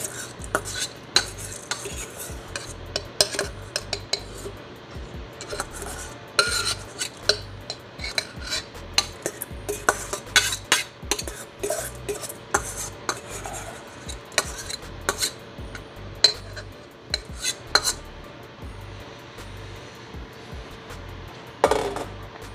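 Rice being stirred in a cooking pot, with repeated scraping, rubbing and light clinking of a utensil against the pot, fairly close and steady throughout, with no talk.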